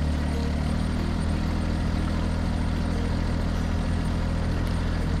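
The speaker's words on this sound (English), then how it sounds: "So push another big blade full of snow down there into the corner." A tractor pushing a blade full of snow while plowing at night, a steady low engine drone throughout at constant loudness, with no voices.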